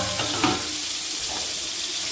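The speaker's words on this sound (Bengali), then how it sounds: "পটলগুলো প্রথমে ভেজে নেব।" Salted, turmeric-coated pointed gourd (potol) frying in hot oil in a wok, heard as a dense, loud, hissing sizzle that holds steady and close with a faint stir near the start.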